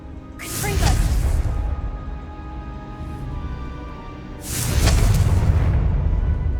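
Two loud booming blasts from a Confringo fire spell in the wizarding game Hogwarts Legacy, each a roaring explosion with a whooshing tail, close and powerful against low rumbling ambience.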